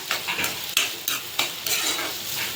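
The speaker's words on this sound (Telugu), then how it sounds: "ఉల్లిపాయలు వేగుతున్నప్పుడు కల్లుప్పు వేసుకున్నామండి సరిపడినంత" Sliced onions fry with rock salt in a home kitchen pan, a steady bright sizzle broken by repeated scraping stirs of a spoon roughly every third of a second, close and alone without talk.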